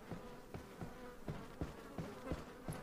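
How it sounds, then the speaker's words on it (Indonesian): Flies buzz steadily in the video game Resident Evil 4, a soft continuous drone with faint periodic pulses, heard alone without talk. "Bunyinya lalat tuh."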